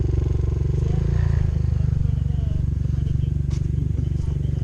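A Honda Hawk 250 motorcycle engine runs at a steady low throb during clutch-control practice at Cravens in Pitkin, Louisiana. It is close and loud, with faint voices in the background.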